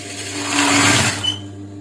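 Sewing machine running a long basting stitch along fabric, a steady whirring motor hum that builds and holds for about a second before stopping, close and alone.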